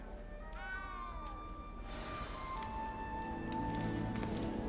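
A small cat in Hogwarts Legacy gives a faint, brief meow near the start, followed by a second soft mewing cry, set against a steady low ambient hum and chiming background music.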